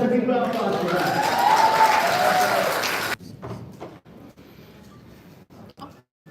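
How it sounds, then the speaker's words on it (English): A live event audience claps for about three seconds, a loud burst of applause with a voice talking over it, then it cuts off abruptly to quieter room sound with scattered noises. "Let's give ourselves a big round of applause for that."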